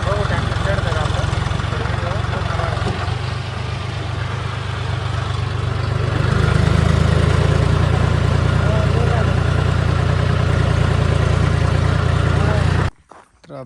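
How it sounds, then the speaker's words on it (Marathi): A tractor engine labours steadily up a freshly built, water-sprayed road, its loud low drone holding constant and growing heavier partway through before cutting off abruptly near the end. "बघू ट्रॅक्टर चढतं आपण"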